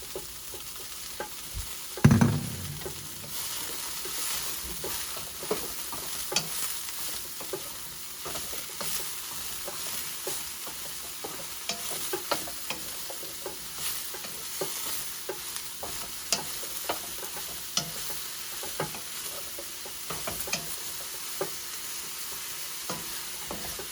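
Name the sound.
mushrooms frying in oil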